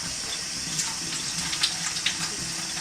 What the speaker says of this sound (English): rinsing them is a great way to